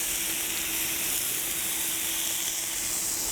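Irish lamb meatballs fry over medium-high heat in a pan, giving a steady, close, bright sizzling hiss throughout with no talking.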